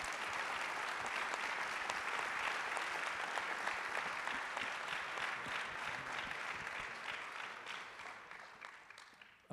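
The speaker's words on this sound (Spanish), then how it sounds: "les pido que les den un aplauso a" An audience applauds the speakers at a talk on innovation and disruption: sustained, dense clapping from a sizable crowd, even and fairly loud, gradually thinning out toward the end.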